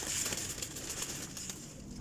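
Pigeons kept for sale in Pakistan, including a golden hen, coo softly under steady, noisy ambient hiss.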